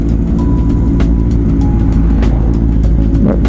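A truck rolls past on the road, a loud, close, continuous low engine rumble with scattered clicks and rattles over it.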